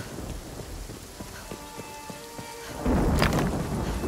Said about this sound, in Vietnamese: Trời mưa nè.